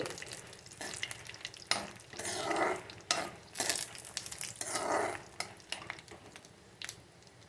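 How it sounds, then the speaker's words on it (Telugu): Nut pieces halved and frying in a pan while being turned, giving bursts of crackling sizzle with scraping stirs and light metallic clinks of a utensil against the pan, no voices. "పలుకులు రెండు ముక్కలుగా చేసి బాగా వేయించుకోవాలి"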